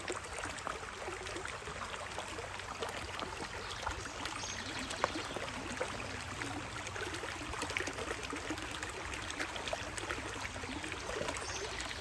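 Water flows through a Keene A51 sluice box set up in a stream, giving a steady, faint broadband rush and trickle that holds evenly throughout, with no voices.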